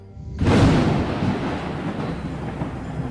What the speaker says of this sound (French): J'entends l'orage.